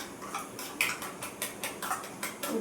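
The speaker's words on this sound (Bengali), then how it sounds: "ডিমটা ফেটিয়ে নিচ্ছি" Egg being beaten in a bowl for an omelette, a steady run of quick, light clicking strokes against the bowl, close and alone with no talk.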